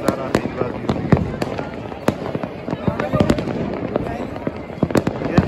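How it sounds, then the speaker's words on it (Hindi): Fireworks burst over Jaipur on the Makar Sankranti kite festival night: a steady run of sharp cracks and bangs at irregular intervals, some close and loud, others fainter, with voices talking underneath. "आप इस बार से देखिए गाइस क्या शानदार आतिशबाजी हुई है"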